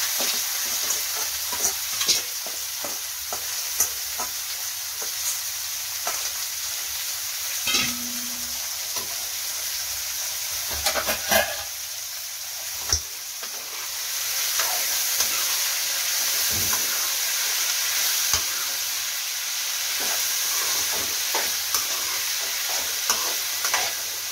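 Pieces of godu chikkudukaya broad beans and chopped onion frying in a pan, with a continuous hiss of oil under occasional scrapes and clinks of a stirring spoon, close and steady with no talk.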